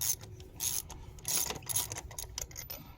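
Socket wrench with an extension ratcheting off a spark plug on a 2011 Volvo XC60, a run of quick close clicking bursts in short groups with brief pauses between, no talk.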